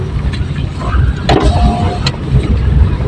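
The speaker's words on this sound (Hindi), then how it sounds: "मंदी मंदी हमारी गाड़ी चल रही है" A car engine running as it drives slowly, a loud, steady mid-range rumble with a couple of brief clicks and rattles.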